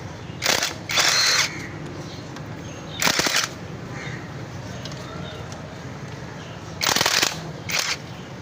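Bolts being loosened on the magnet cover of a Honda CG125 motorcycle engine with a power tool, several short loud whirring bursts separated by pauses, with someone talking in between.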